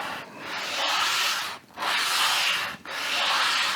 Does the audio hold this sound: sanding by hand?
yes